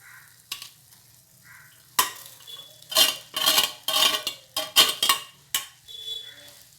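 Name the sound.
cooked pasta being added and stirred into red sauce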